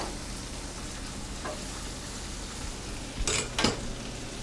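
Pork chops seasoned with salt and pepper sizzle steadily in a pan over high heat, a constant low hiss with two sharp clatters of a utensil or pan near the end.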